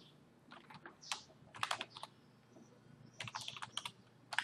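Fingers type on a computer keyboard at close range, producing quick clusters of light key clicks with brief pauses between bursts in a quiet room.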